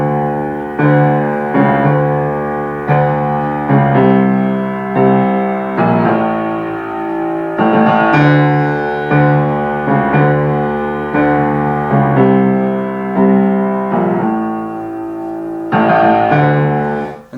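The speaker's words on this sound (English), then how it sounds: "a very consistent walking bass, which means it's a bass that repeats itself over and over again" A composed walking bass line repeats steadily throughout, with a regular pulsing rhythm of plucked low notes that forms a looping musical foundation, loud and close with no talking.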